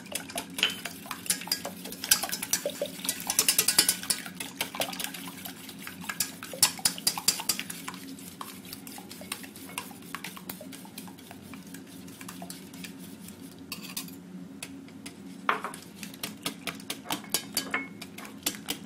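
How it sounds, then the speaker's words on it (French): Whole eggs being stirred energetically in a bowl for a lemon meringue tart, with a fast, steady clatter of a utensil against the bowl that continues throughout, close and busy. "il faut remuer de façon un peu énergique, de façon à ce qu'on n'ait pas de coagulation"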